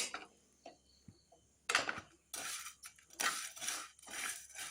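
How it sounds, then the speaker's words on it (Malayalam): Vermicelli roasting in ghee in a pan, quiet clinks and taps of a spoon at first, then rhythmic bursts of scraping and rustling as the strands are stirred, near and without speech. "ഇനി നമുക്ക് ആ നെയ്യിൽ തന്നെ നമുക്ക് കുറച്ച് സേമിയ കൂടി വറുത്തെടുക്കാം."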